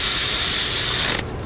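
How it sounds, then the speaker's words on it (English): Quarter-inch drive ratchet spinning down water pump bolts on a Dodge Ram Promaster engine, a rapid close buzzing click of the pawl for just over a second before stopping sharply. "I'm gonna run all these down with a 1/4-inch drive, and then I'll bring them up to torque manually."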